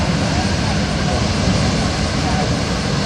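Jet engines of a Boeing C-17 Globemaster III roar loudly and continuously at an air show, a broad, dense rumble filling the scene without letup.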